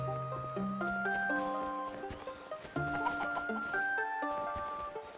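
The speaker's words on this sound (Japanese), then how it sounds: "鶏だ。" Chickens in the farming game Eastward Octopia cluck in short, soft bursts, half buried under bright, steady game music.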